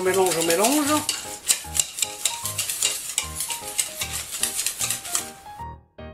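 A parsley stuffing mixture for a gratinéed veal chop with garlic butter is worked in a bowl with rhythmic scraping, slapping strokes. Tonal voice-like sounds run underneath, then the sound cuts off abruptly.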